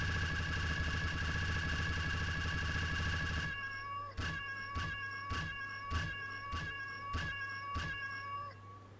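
A cat meows in repeated short calls from a cat silencer fitted to a gun in Fallout 4, about eight evenly spaced mews following a loud buzzing burst of firing, heard alone without talk.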